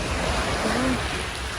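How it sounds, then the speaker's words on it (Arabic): Sea waves washing onto a beach at night, a steady broad hiss of surf with wind, fairly close, with faint voices briefly under it. "شوفوا البحر"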